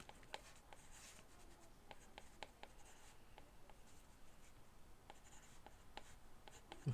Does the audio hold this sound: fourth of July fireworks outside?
no